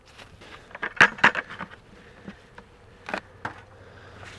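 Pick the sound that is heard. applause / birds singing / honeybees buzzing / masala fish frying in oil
honeybees buzzing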